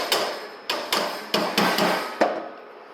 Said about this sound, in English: then you take a mallet and tighten it more